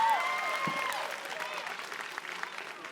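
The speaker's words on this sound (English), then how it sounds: "Can we give another round of applause" A room full of people at a live debate event clapping, moderately loud at first and gradually thinning out over a few seconds.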